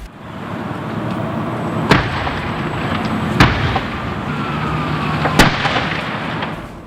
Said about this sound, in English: those explosions were portions of concrete exploding in the intense heat of the fire